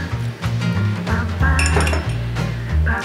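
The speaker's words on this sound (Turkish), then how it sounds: "Şimdi bunları karıştırıyoruz." A metal spoon clinks repeatedly against a bowl while mixing dough with water, bright close taps in an uneven rhythm over a low scraping stir.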